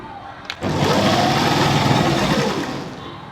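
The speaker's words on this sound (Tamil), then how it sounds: "இப்போ இந்த அஞ்சு மீட்ரு ஃபுல்லாக தைச்சிட்டு வந்துடுறேன்" A sewing machine stitches fabric with a steady, close motor whir that starts after a brief click and runs evenly for nearly three seconds.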